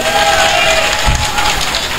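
Crowd at a political party gathering cheering and applauding, a steady loud wash of clapping and shouts throughout with a brief low thump midway.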